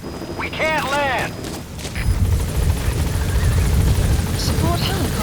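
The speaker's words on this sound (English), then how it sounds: "Support helicopter has arrived." A support helicopter arriving in the Metal Gear Solid V video game, its heavy rotor rumble building and holding loud after a brief burst of radio chatter and electronic chirps.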